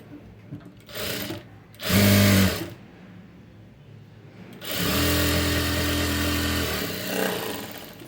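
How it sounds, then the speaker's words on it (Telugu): A sewing machine top-stitches the front panel of a garment in a few separate runs: two short whirring bursts, then a longer steady hum of stitching, loud and close. "టాప్ స్టిచ్ వేసేయండి. ఇలాగా మళ్ళీ క్లోజ్ చేసేసుకుని ఇంకో స్టిచ్ వేసేసుకోండి."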